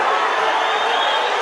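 Boxing match crowd roaring and chanting in a dense, steady wash of voices that fills the whole moment, loud and continuous without a break.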